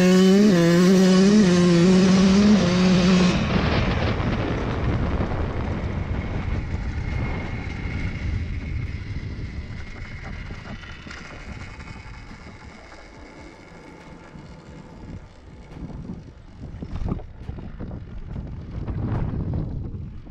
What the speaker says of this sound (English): I'm just gonna fire up the bike and immediately take off, go through the gears at full throttle